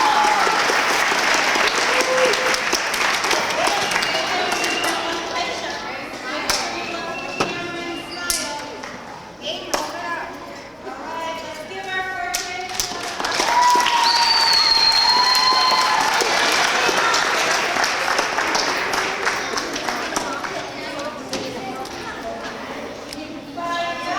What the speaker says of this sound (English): Can we have a round of applause for our 4th graders?